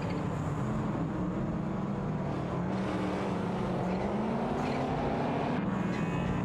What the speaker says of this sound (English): Jessac 72 in the TVR Tuscan and Romans are dueling it out with NYST 149 and Super Lacroix in the Ford Mustang for the fourth position